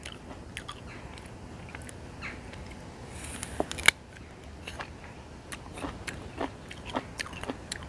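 Someone bites into and chews fruit freshly picked from a home garden orchard, giving repeated sharp, crunchy bites and wet chewing close to the ear, with no talking.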